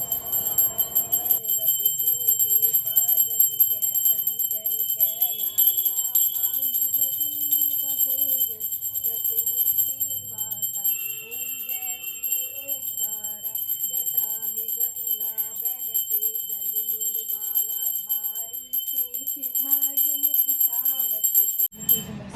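A small Hindu prayer bell rings continuously during aarti in rapid, steady strokes with a bright, sustained metallic tone, while a voice chants along throughout.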